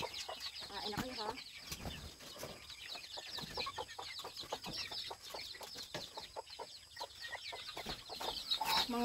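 Newly hatched chicks cheep in rapid, high, scattered peeps, faint and close, mixed with light rustling and scratching.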